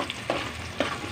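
Garlic and onions stir-fry in a pan with a continuous crackling sizzle, broken by two distinct scraping strokes of a spatula about half a second apart.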